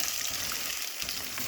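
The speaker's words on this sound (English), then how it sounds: "This has been frying for another 5 minutes, and as you can see, the oil is coming up" Tilapia fish frying in hot oil, a steady close sizzle and crackle that holds at an even level with no talking.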